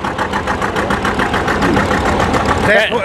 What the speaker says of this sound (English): Highest horsepower tractor they had in 1960, 75 horsepower.